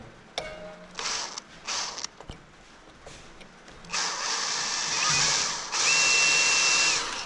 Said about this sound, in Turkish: tam ortaya delmemiz gerekiyor